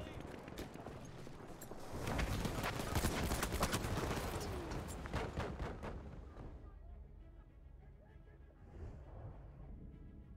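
Artillery fire in the video game Battlefield 1, a dense barrage of booming impacts and crackling gunfire that peaks early and then fades into a quieter battlefield rumble, with faint speech mixed in.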